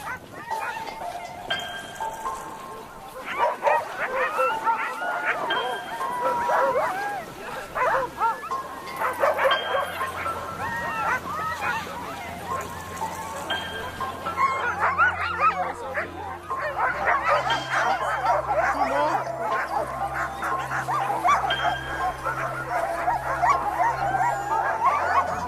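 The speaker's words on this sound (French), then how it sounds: "l'une des plus typiques reste le voyage en chien de traîneau" Pack of sled dogs in Norway barking and yipping continuously, a dense, loud chorus of many overlapping voices with whimpers, heard up close with a low rumble running beneath.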